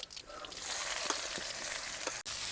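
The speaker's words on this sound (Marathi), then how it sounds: "मोहरी मस्त तडतडली आपण कांदा टाकून घेऊ" Onion fries in hot oil with spluttered mustard seeds in a wok, a loud, dense, continuous sizzle close by, briefly stirred, with no voices.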